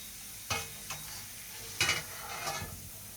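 Fried potatoes land in a pan of hot oil and get stirred, a faint low sizzle with a handful of spoon scrapes and knocks, two of them sharper than the rest.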